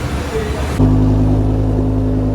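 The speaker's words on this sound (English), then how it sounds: "Listen to this one, man. M5 is mad crazy loud." A BMW M5's engine kicks in abruptly with a loud, deep rumble and holds a steady, throaty drone, close by and powerful, with no talking.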